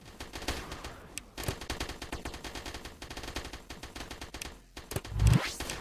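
Rapid, continuous bursts of cannon fire in the video game Project Astra Dominium, endless mode, rattling almost nonstop for several seconds, with a heavier boom near the end.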